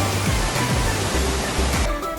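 Sarangwalet waterfall, fed by Rinjani mountain water, pours in a steady, loud broadband roar with a low rumble underneath. The noise is continuous and close, with no voices.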